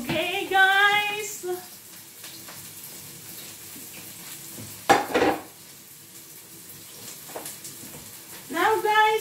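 Mussels for tinola with pepper leaves hitting a hot pan, a sharp burst of sizzling and stirring clatter followed by quieter bubbling, with a person talking at the start and near the end.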